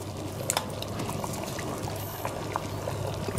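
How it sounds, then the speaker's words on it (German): Pumpkin cream soup bubbles in a cauldron hung over a fire at a Halloween cookout, giving soft irregular pops and gurgles over a low steady rumble, close by and fairly quiet. "es blubbert"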